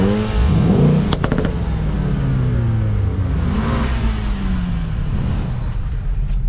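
A car engine revs hard, close and loud, its pitch sweeping up and down repeatedly through several throttle blips over a continuous rumbling drone, with no talking.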